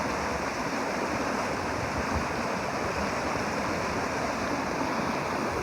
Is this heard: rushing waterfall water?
yes